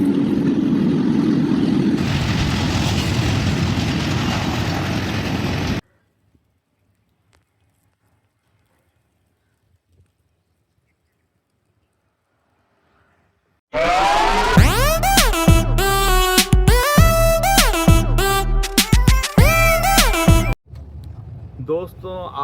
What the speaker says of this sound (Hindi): ट्रेन है जी।